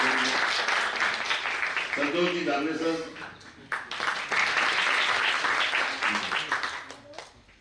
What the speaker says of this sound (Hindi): एक बार ताली का आशीर्वाद दीजिए